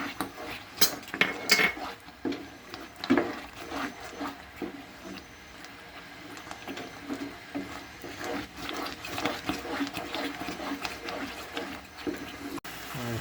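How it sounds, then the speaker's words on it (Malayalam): A spoon scrapes and knocks against a pan while banana halwa cooks in ghee with ground peanuts, giving irregular close clinks and scrapes at a low level with no talking. "ശകലം നെയ്യൂടെ നമ്മൾ ഇട്ട് കൊടുത്ത് ഇളക്കാം"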